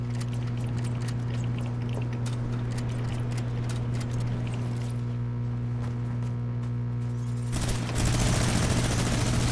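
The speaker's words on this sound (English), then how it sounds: "he has a whole minigun." A minigun fires in the video game Fortnite, a rapid rattling stream of shots over steady game tones, growing louder and harsher near the end.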